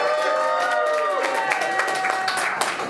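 A roast battle comedy show crowd cheers and claps together, a loud mix of whoops, shouted voices and applause that holds steady throughout.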